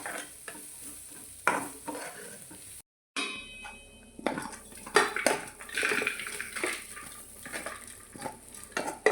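Rice and chana dal being roasted in a little oil in a pot for Karnataka-style payasa: a spoon stirs and scrapes steadily against metal with soft sizzling and repeated clanks, with no talk.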